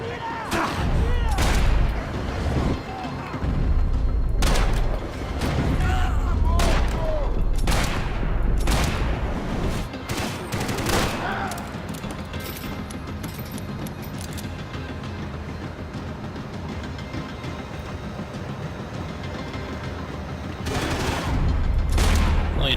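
Shotgun blasts from the video game Max Payne 3: several loud, sharp booming shots in irregular bursts, mixed with heavy action noise and rumbling gameplay sounds throughout.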